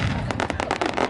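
Fireworks and firecrackers crackle and pop in a dense, loud, rapid burst, filling a short stretch of a fireworks store advertisement with sharp overlapping bangs.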